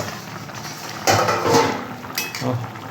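A metal lid is lifted off a cooking pot of fish curry with ridge gourd and potatoes, making a couple of close clattering knocks against a steady kitchen background.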